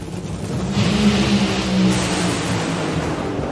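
Nitro Funny Car at the NHRA Northwest Nationals drag race final roars in a loud, sustained engine blast that swells and holds steady throughout, without talk.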